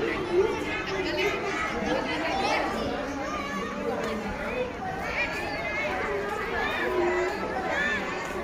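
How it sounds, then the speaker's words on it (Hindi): A crowd of visitors at a Krishna temple site chattering together in a steady, close babble of many overlapping voices, with children's calls rising now and then. "काफी भीड़ भाड़ है यहाँ पे,"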